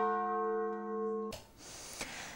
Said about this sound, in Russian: самый благозвучный, благовестный колокольный перезвон в селе